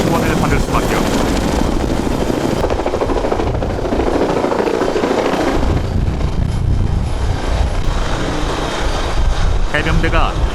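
A Korean Marine Corps amphibious assault transport helicopter flies close by, its heavy rotor and turbine roar loud and continuous, with steady blade chop throughout and a voice narrating over it.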